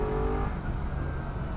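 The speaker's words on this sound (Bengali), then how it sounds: "আর সাথে ডুয়েল ব্যারেল এক্সস্ট, সেই সাউন্ড" Honda CBR 250RR SP, a 250cc 42 bhp sport motorcycle with a dual barrel exhaust, riding in Bali, gives a loud, steady engine drone that stays close and continuous throughout.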